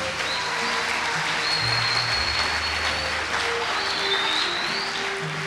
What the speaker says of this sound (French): je vous prie très respectueusement de faire une salve d'applaudissements pour vous